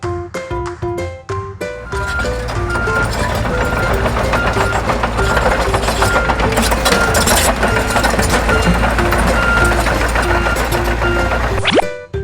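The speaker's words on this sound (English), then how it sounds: "Bulldozer." A bulldozer engine rumbles steadily and loudly beneath bright, bouncy music notes, holding a constant low drone for most of the stretch before cutting off near the end.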